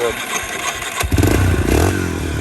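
Close, loud engine of a Yamaha Warrior ATV on a cold day, running rough with a sharp rev rising partway through, while people talk over it.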